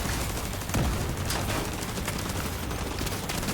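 Rapid shotgun blasts ring out during a gunfight in the video game The Division 2, dense overlapping shots over a continuous roar of combat, loud and close throughout.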